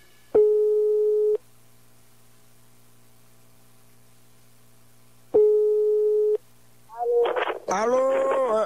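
Two long steady telephone call tones sound over a quiet line hum, each about a second with a pause between, followed by a voice answering the phone.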